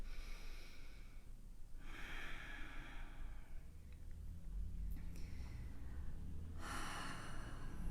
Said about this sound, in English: Continue to breathe.